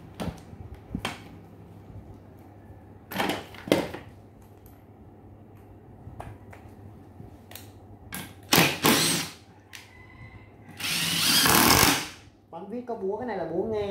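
A Makita cordless hammer drill from a Japanese used-tool lot is test-run in short bursts, several loud buzzing spurts spaced apart with a longer whirring run near the end, while someone talks between them.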